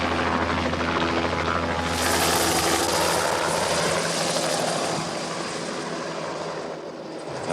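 Helicopter flying overhead while serving as a film camera platform, its steady rotor and engine drone loud and continuous throughout, swelling slightly midway before easing off.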